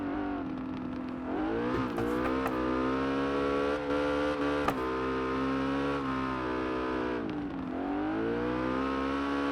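A sustained, steady engine drone with shifting revs and brief tire scrubs comes from a car drifting off-road in CarX Drift, played on a Logitech G920/G29 wheel. The sound runs continuously and loud, with no talking.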